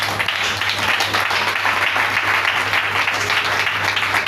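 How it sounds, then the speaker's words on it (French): Congregation applauding during a church sermon, a steady, dense wash of clapping from many people filling the room, with a low hum underneath and no break in the applause. "Acclamons Jésus."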